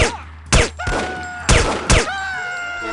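Video game gunfire comes as four loud, sharp blasts in an uneven rhythm, each ringing out with metallic, whining tails between shots, with no voices.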